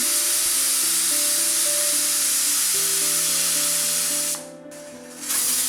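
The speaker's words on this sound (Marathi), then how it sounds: "पहिली शिट्टी झाल्यानंतर आज मंद करा आणि आणखीन दोन शिट्ट्या होऊ द्या" A pressure cooker vents steam while varan bhat (dal and rice) cooks, giving a loud, steady hiss that runs for several seconds and then briefly drops away near the end before resuming.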